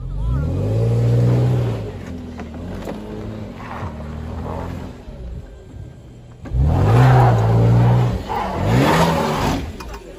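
A Tank 300 SUV's engine revs hard while it climbs an off-road slope, rising in two loud surges with a pause between, heard close with faint voices in the background.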